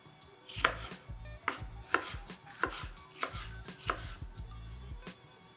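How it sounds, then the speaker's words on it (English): A knife chops pimento peppers into slices on a board, with about eight crisp, evenly spaced cuts landing close and clear, and no talking. "roughly cut it. Slices. Some pimentos as well."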